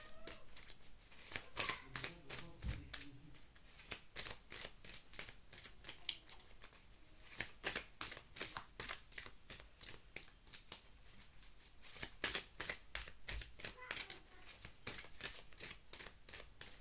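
Tarot cards shuffled by hand, a fast run of crisp riffling flutters repeating steadily, quiet and close, with a few faint bumps and no talk.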